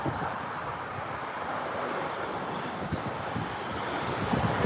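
Sea waves wash and roar at Bangsaen beach, a steady broadband surf mixed with gusty wind buffeting the microphone, loud and continuous with no talk.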